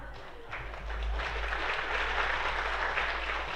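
Congregation at a Korean Sunday afternoon church service applauding guest pastor Kim Seong-hwan: a short burst of clapping that swells after a moment and stays at a moderate level over a low hum.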